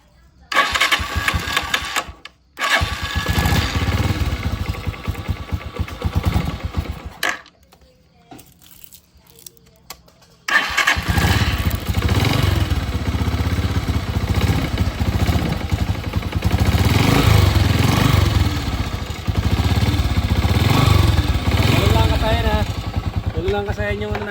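Motorcycle engine cranking and firing on a low-budget 6.5 battery, a brief start attempt then a pause before it catches and settles into a steady, rattling idle, close and loud with someone talking over it.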